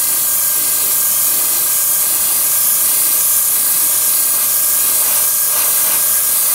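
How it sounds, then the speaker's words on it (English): Continuous loud, close hiss of an airbrush misting paint color for preshading, steady and unbroken throughout with no voices. "you just mist the color on"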